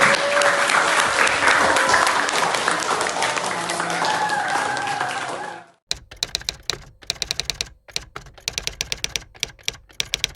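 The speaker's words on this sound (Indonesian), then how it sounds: "tepuk tangan dulu kita semua." A group of teachers at a training session applauds together in a dense, sustained burst of clapping that stops abruptly, followed by sparse scattered claps.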